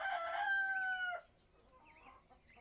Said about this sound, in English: There is a bird in there.